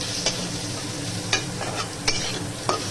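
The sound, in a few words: vegetables frying in a pan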